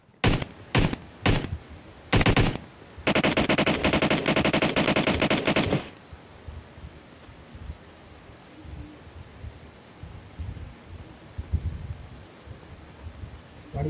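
Automatic machine gun fire in the PUBG Mobile battle royale game: several short bursts, then a sustained loud volley of about three seconds, followed by quieter ambient game sound with faint movement.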